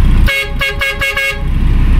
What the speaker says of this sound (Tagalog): gumagana na ang busina natin na ikinabit